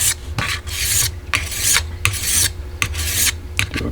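A single-bevel broadhead is filed in repeated rasping strokes to remove the burr, about six close, loud swipes in steady rhythm with brief pauses between them.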